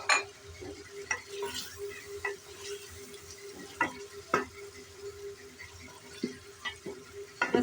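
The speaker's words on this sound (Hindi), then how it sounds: "अब हम चिकन भून लेंगे।" Chicken stirs and fries in masala in a pot, a faint steady sizzle broken by irregular scrapes and knocks of a spoon, quiet and close.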